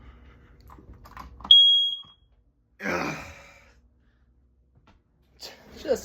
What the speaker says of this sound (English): Another bedroom smoke detector.